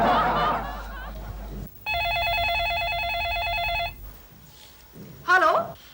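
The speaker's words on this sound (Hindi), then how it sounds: "लालू, फोन करो, फोन करो।" A telephone rings loudly with a steady, repeating electronic bell tone for about two seconds, set between bursts of talk and laughter in a household comedy scene.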